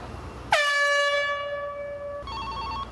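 A warning signal before an air blow at Dry Fork Station: a loud horn-like tone sounds, holds steady for about two seconds, then shifts to a warbling, pulsing tone over low background noise.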